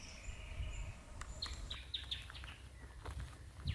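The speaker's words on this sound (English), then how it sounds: "And this cute little one is a red-browed finch." A red-browed finch gives short, high, thin calls in a dry eucalyptus forest in the Australian bush, several quick chirps clustered in the middle over a steady bed of soft background noise and wind.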